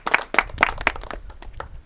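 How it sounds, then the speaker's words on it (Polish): A short burst of hand clapping at a charity fishing contest as results are read out, with a few loud, distinct claps that thin out and fade toward the end. "Brawa."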